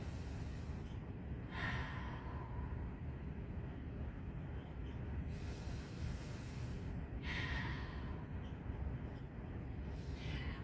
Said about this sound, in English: a fire breath over your tongue, Ujjayi, breathing in through your nose and out through your mouth